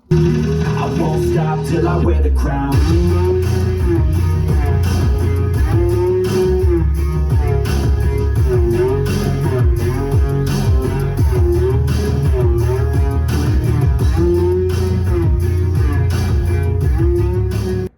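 Music plays loudly through a car sound system, with a steady beat and strong bass throughout, dense and continuous with no talking.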